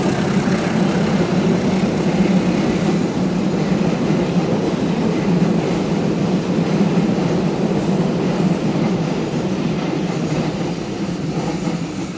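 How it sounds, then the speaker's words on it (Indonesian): A train rumbles past close by, a continuous heavy roar with rattling wheels that holds steady throughout and eases slightly at the end. "si keretanya bakal melintas di dekat saya makanya agak sedikit berisik"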